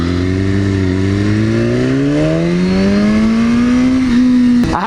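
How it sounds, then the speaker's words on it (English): A McLaren sports car's engine drones nearby and climbs steadily in pitch as it accelerates, loud and alone, ending with a sharp burst of noise. "It's a McLaren, man."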